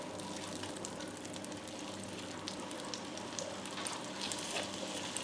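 Chicken pieces sizzle in melted butter in a pan, a steady faint crackling fry with scattered small pops throughout and no talk.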